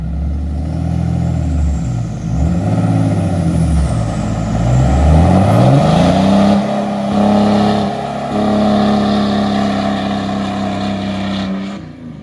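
A 1200-horsepower triple-turbo Powerstroke diesel truck does a burnout, its engine roaring loud and close with rising and falling revs. The drone climbs to a sustained high pitch and holds for several seconds before easing off, with no talking.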